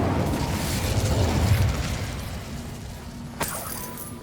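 Incendio fire spell in Hogwarts Legacy, a roaring fiery burst that swells and slowly fades, followed by a sharp crackling snap near the end.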